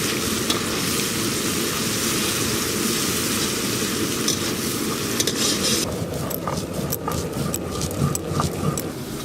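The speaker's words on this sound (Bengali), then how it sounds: "এদিকে পেঁয়াজ, আদা, রসুন, টমেটো সব একসঙ্গে ভালো করে ভাজা ভাজা হয়ে গেছে" Onion, ginger, garlic and tomato frying together in a pan for a chicken curry, a steady dense sizzle with the stirring becoming sparser and more clattery toward the end.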